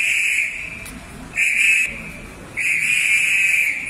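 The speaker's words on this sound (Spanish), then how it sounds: "¡Alarma!" An alarm sounds in three sustained, piercing whistle-like blasts, each about half a second to a second long with short gaps between, loud and steady with no voices over it.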